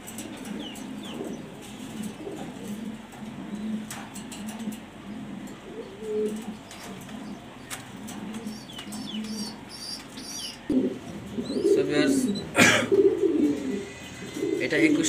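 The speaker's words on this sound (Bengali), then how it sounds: "এটা 21 সিংয়ের ইম্পোর্টের একটা নর কবুতর, কালো ড্যানিশ।" Black Danish pigeons, including an imported male, coo in low repeated murmurs throughout, with scattered wing flutters and nearby bird noise; the cooing swells louder near the end while someone talks over it.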